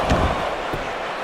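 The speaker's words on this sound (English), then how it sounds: "What a stomp." A single heavy thud of a wrestler stomping an opponent on the ring mat during a televised wrestling match, one sharp impact with crowd noise behind it.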